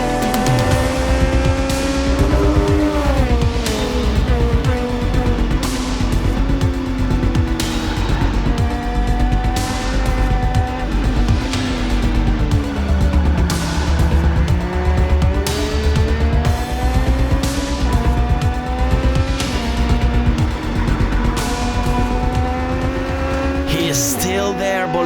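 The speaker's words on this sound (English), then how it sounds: "we're still racing at 180 kilometers an hour on small race cars" Small race cars tear past at around 180 km/h, their engines droning loudly and steadily as the pitch climbs and falls through gear changes, with no pause across the whole stretch.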